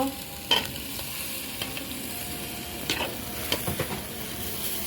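Spices stirred and fried with potatoes and mung dal in a pan for a chicken curry, with steady sizzling under several distinct scraping stirring strokes, close and moderate in level, no voices.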